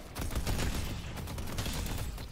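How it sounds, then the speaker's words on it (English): A placed turret in Deadlock, the McGinnis hero's, fires a dense, continuous rattle of rapid gunfire that stays loud and steady throughout, with no talking. "Putting down a turret."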